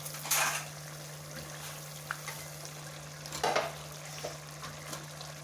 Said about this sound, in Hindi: और अब मैं इसमें आलू ऐड कर दूँगी